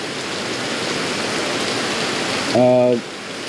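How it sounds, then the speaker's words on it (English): Steady rain hisses down outdoors as a downpour sets in, a dense even wash of noise throughout, and near the end a short voice speaks over it. "Dang, the rain's gonna come down."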